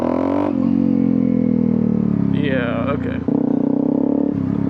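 A Honda CRF250L motorcycle engine rumbling and revving close by as it tries to pull away in first gear, a steady loud drone with a rising whine midway and a brief dip before picking up, with a short spoken exchange over it.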